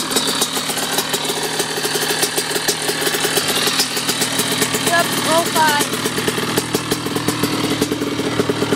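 Two dirt bikes, a 2002 Suzuki RM85 and a CR85RB, idling together with a loud, rapid two-stroke rattle that stays steady and close throughout, with brief talk over it.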